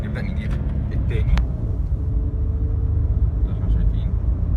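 A 2008 Jeep Cherokee engine runs steadily in first gear, a continuous low rumble heard from inside the car with someone talking over it.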